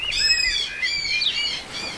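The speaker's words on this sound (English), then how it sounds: "But then a bird came and tried to steal his sandwich." Bird calling at a beach, a run of bright chirping and tweeting notes repeating for about two seconds over steady soft background noise, fairly close and clear.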